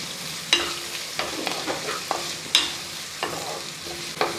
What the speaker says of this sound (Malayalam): പച്ചമുളക് ഇട്ട ശേഷം കൂട്ടത്തിൽ അരിഞ്ഞ് വെച്ചിരിക്കുന്ന ആ സവാളയും കൂടെ അങ്ങോട്ടിട്ട് ഇട്ട് കൊടുക്കും ഇനി ഒന്ന് ഇളക്കി